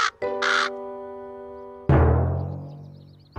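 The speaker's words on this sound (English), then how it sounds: "It's a crow." A crow caws in a children's cartoon, two sharp harsh calls at the start followed by a sustained tonal hum and a later broad crash-like swell that slowly fades.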